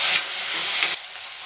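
Tomatoes tipped into garlic frying in a hot pan for a fresh green pea dal set off a loud, close sizzling hiss that eases and quietens after about a second.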